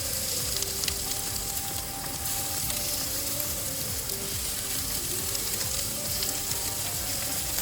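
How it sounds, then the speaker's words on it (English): Chicken fries skin side down in a pan with a little salad oil over medium heat, giving a steady, dense sizzle that stays loud and close throughout, with no voices. "Cook skin side down on the middle heat."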